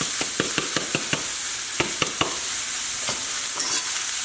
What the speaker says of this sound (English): And you gotta add the garlic, add the shallots,